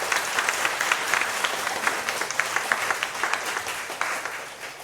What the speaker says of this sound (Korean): 잠시 일어서 주시면 환영하는 박수로